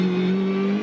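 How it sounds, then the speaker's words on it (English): Onboard engine note of Lee Holdsworth's Erebus Mercedes V8 Supercar racing at the Adelaide 500 street circuit: a loud, steady, sustained drone held at constant pitch, close to the microphone with no voices. "On board here with Lee Holdsworth, the Erebus Mercedes, another different sound."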